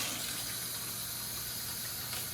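Running water from a household tap gushes steadily while hands are washed at a kitchen sink, a constant, fairly faint hiss with no voices.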